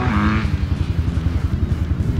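A dirt bike engine putters and chugs close by at low revs while climbing a steep hill, a pulsing, throbbing exhaust note with a short higher rev at the start, no talking.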